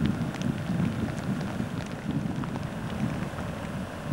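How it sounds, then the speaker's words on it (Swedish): Steady rain falling during a caravan trip on the Varanger peninsula near Hamningberg, Norway, a constant close hiss and patter with no voices. "Men det börjar bli regn."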